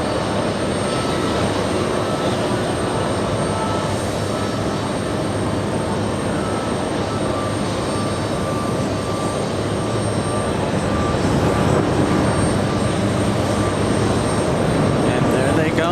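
Loud continuous roar of an Ilyushin IL-96 jet's engines at JFK airport, a broad steady rumble that swells slightly toward the end, with no talking over it.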